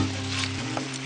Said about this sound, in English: I'm just gonna give that a rough little stir